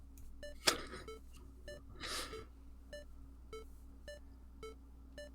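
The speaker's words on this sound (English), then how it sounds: "It's like a metronome." Regular beeping from a Touhou video game, short evenly spaced tones ticking like a metronome, with a brief noisy burst of other sound partway through, fairly quiet throughout.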